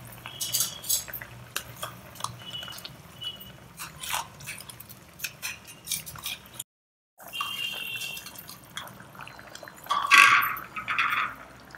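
Ground masala paste is stirred into a pot of simmering sambar with vegetables, producing repeated clinks and scrapes of a metal spoon against the vessel, close and fairly loud, with a brief gap and louder splashy stirring near the end.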